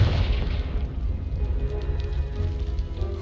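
A Confringo blasting spell explodes in Hogwarts Legacy, a heavy booming blast with a rumbling, crackling tail that fills the whole moment, loud and close with no talk over it.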